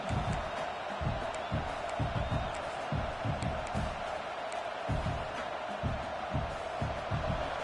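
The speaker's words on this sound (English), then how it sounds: "And the crowd coming to life here, trying to help this defense down in the red zone." Football stadium crowd roaring steadily as the home defense tries to hold in the red zone, a broad continuous wash of cheering with scattered whoops and claps throughout.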